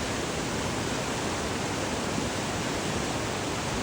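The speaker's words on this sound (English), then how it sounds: "Bend, Oregon actually has a river wave to surf." The man-made river wave for surfing in Bend, Oregon, formed by cement under the water, gives a steady, loud roar of rushing white water with no other sounds.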